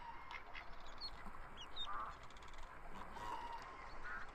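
Ducks in the VRChat game give a few short honks and quacks, moderately near, heard over a steady ambient background hum with no speech.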